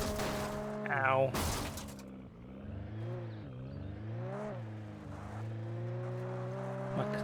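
A car engine in the video game Alan Wake Remastered hums and revs with rising and falling pitch, interrupted early by sharp crashing noises as the car takes damage, continuing steadily to the end.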